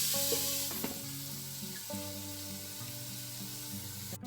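Chicken pieces fry in a pan with a steady, close sizzle and crackle that holds evenly throughout, with no voices.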